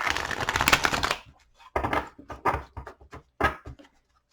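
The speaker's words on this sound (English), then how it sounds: "So I'm going to give this deck 3 shuffles and pick from the top" A tarot card deck is shuffled on a tabletop: a dense, rustling riffle runs for about a second, then after a short pause comes a series of separate taps and shuffles, close and fairly loud, with no talking.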